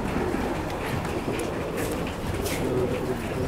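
Teddy pigeon cooing among light background noise, soft low coos repeating under a continuous ambient hum.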